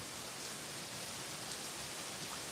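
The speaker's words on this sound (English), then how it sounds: "the rain cleans and cleanses. We need that right now" Steady rain falls outdoors, a dense, even hiss of drops on surfaces that holds at the same level throughout, with no voices or other sounds over it.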